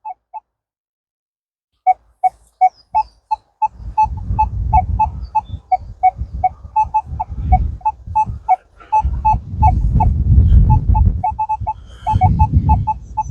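A Minelab Manticore metal detector answers a target on a hunt in the County Durham hills with a rapid run of short, regular electronic beeps, close and clear, over bursts of low rumbling handling and wind noise.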